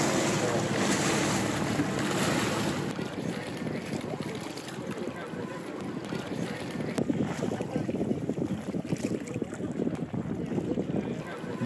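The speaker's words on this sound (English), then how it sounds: "that we've allowed Simon to flex his sailing muscles and steer the boat" A sailboat on the Nile near Aswan, with continuous wind buffeting the microphone and water rushing along the hull, loud and close throughout.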